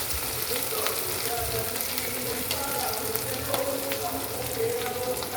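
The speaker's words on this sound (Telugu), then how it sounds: "మ్యారినేట్ పెట్టి ఉంచుకున్నాం కదా, ఆ చికెన్ వేసేసుకున్నాం." Marinated chicken fries in a pan for a chicken curry, a dense, even sizzle held at close range, with faint stirring scrapes now and then and no talking.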